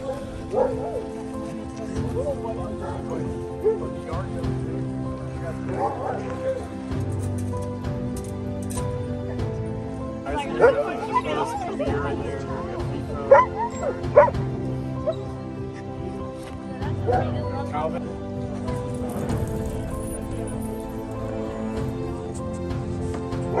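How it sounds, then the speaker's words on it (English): Sled dogs at a kennel in Alaska bark, yip and whimper in an excited chorus, a busy overlapping mix of close and farther calls that keeps going throughout. "So welcome to the 17th Dog Kennels."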